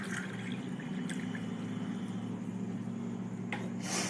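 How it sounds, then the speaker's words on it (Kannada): Water is poured into a glass already holding grape squash, a quiet liquid trickle with a few brief splashes and drips, louder near the end. "ಇನ್ನೊಂದು 3/4 ಗ್ಲಾಸಷ್ಟು ನೀರು ಹಾಕ್ಕೊತಾ ಇದ್ದೀನಿ."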